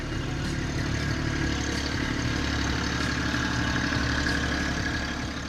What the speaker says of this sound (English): But this time, we had Cubby the tractor. I was really eager to see how it would move snow.